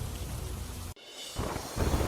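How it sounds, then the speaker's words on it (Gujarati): Heavy rain pours in a dense, steady roar on the Vadodara Expressway in Gujarat, briefly cut off before resuming even louder, with no voices present. "વડોદરા એક્સપ્રેસ હાઈવે પર ધોધમાર વરસાદ"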